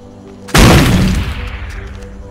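A single heavy gunshot from Rainbow Six Vegas 2 Terrorist Hunt on PS3 hits loud and sudden, then rolls off in a long reverberant decay with no voices over it.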